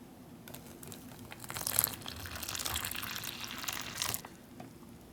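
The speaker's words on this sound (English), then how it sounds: "fill it with 6 ounces of water or up to the fill line" Water pours into a soft plastic MRE drink pouch up to the fill line for a few seconds, with crinkling of the pouch as it fills, fairly quiet and close.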